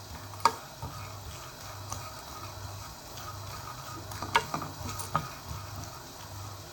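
Toasted almonds stirred in a hot pan after the heat is switched off, for a Moroccan seffa medfouna: faint scraping and a few sharp utensil ticks over a low steady hum, no voices.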